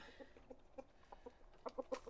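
Chickens, including a speckled hen, cluck softly in short repeated calls as they come out of a farm coop, faint and somewhat distant, with a few louder clucks near the end.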